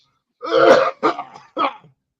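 A man clears his throat with a long, harsh rasp followed by two shorter coughing bursts, close and alone in silence.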